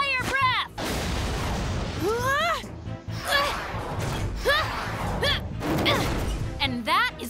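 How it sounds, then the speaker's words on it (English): A cartoon dinosaur's fire breath attack erupts as a string of booming blasts and whooshing bursts mixed with whistling, swooping effects, with voices heard among the explosions. "And now, fire breath!"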